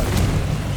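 Deep, muffled boom from a Confringo blasting spell in the Hogwarts Legacy game, a single low rumbling burst lasting under a second with no talk over it.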